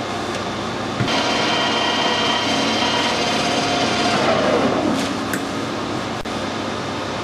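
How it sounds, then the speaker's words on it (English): Power drill boring into a brass bearing oiler, a steady close whirring drone that holds for several seconds, with a brief rising whine near the end. "This now needs drilling and tapping"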